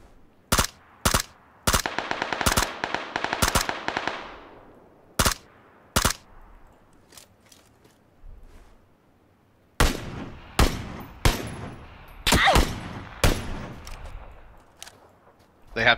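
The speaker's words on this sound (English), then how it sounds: "They're shooting each other." Players shoot each other in a video game: rapid automatic bursts and sharp single gunshots ring out loud and close, broken by quiet gaps before another flurry of shots.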